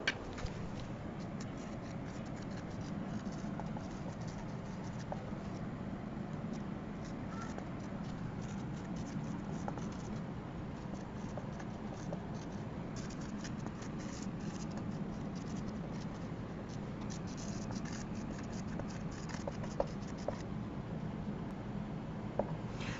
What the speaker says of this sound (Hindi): तो मैं सबसे पहले इसकी डेफिनेशन को बोर्ड पर लिख रहा हूं.